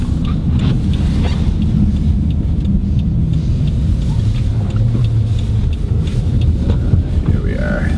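A car driving along the road, a loud steady rumble of engine and road noise with wind buffeting the microphone throughout, and a voice talking faintly inside.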